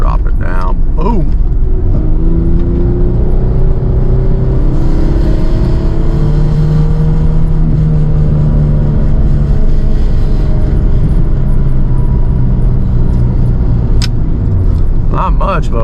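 A Nissan 300ZX Z32 pulling away after a downshift, its engine note rising and falling in steady harmonic sweeps as it accelerates, heard from inside the cabin with a voice talking over it.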